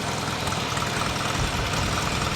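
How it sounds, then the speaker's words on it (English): A Craftsman LT1000 lawn tractor's 19.5 hp Briggs opposed-twin engine idles low with a steady, dense rumble and even chugging, close up and alone without talk. "Engine's running now. Runs pretty well. This is low idle right now."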